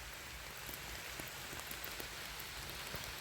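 Steady rain falls through an autumn forest, a dense even hiss with scattered drops ticking on leaves, soft and continuous with no voices.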